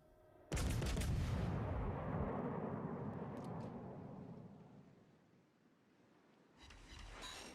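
A Yamato battleship fires a big gun salvo in World of Warships, one huge close blast that booms and rolls slowly away, with a second rumbling report near the end.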